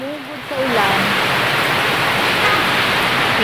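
Heavy typhoon rain pours as a steady, dense broadband hiss, close and loud; a voice is briefly heard at the start before the downpour swells and holds constant.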